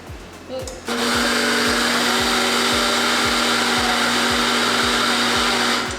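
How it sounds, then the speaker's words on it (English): A blender motor blending watermelon kicks in after a brief moment and roars steadily and loudly up close, a constant high whir that never lets up. "we're already going to use this blender to put everything in together anyway"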